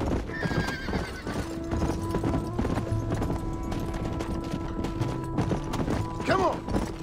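A horse in the Red Dead Redemption video game gallops with steady clip-clop hoofbeats and gives a loud neigh near the end, over a continuous game soundtrack with a voice talking intermittently.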